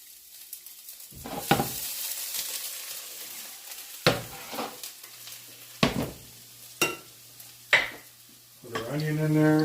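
Garlic frying in extra virgin olive oil in a pan, a soft steady sizzle broken by several sharp scrapes and clinks of a utensil stirring, with a louder hiss building at the end.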